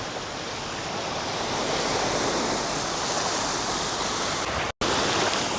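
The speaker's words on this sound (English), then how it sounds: "Look at these waves" Ocean waves break on a shore in a continuous, loud wash of surf that fills the whole clip, cut by one very brief dropout near the end.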